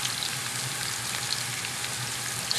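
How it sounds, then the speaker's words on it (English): Sliced scallions fry in olive oil with a loud, continuous, close hiss of sizzling, steady throughout with no talking. "We're going to put that in the oil, and we're just going to stir that really quick"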